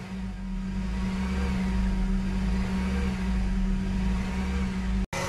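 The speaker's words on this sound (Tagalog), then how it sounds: "magfa-fluctuate or magiging erratic yung idle ninyo kagaya nyang nasa video na yan" A second-generation Honda CR-V engine idling with a sensor connection unplugged holds a steady, close mechanical hum with a low drone that wavers slightly in pitch, then cuts out abruptly near the end.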